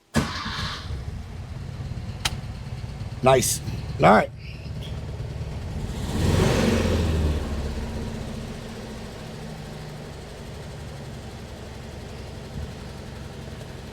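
A 1968 VW Type 3 with dual 34 carburetors cold-starts with no pedal: a few cranking bursts catch into a rough rumble that settles to a steady low idle, with brief talk near the start.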